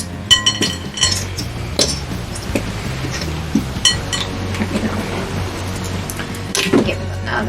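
A utensil mixing glue for slime in a bowl, producing a run of light irregular clinks and scrapes, moderately close, with brief talking in places.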